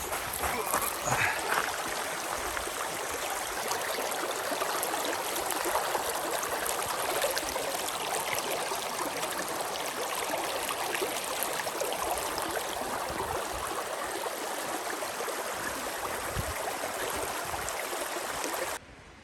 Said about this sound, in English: The sound of rushing water is over there.